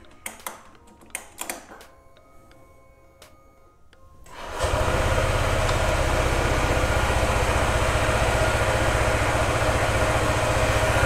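A Honda ADV 150 scooter engine fires up after a few seconds of clicking and handling noises, then settles into a steady, fairly loud idle that continues to the end.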